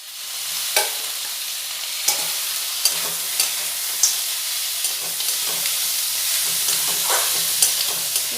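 Washed chicken goes into a pan of fried onions, sizzling steadily and loudly with periodic scraping stirs and clinks from a utensil throughout.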